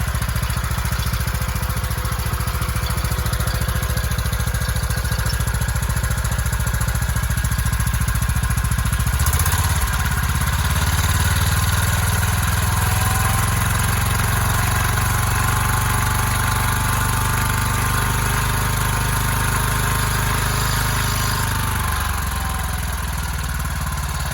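An old John Deere 216 lawn tractor engine runs continuously with a rough, steady idle, briefly shifting pitch midway before settling back into its loud, even drone.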